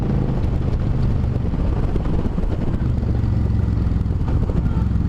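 Suzuki Marauder VZ800 motorcycle downshifting while riding on a chilly day, a steady, loud engine drone with wind rumble throughout and no clear gear-change break.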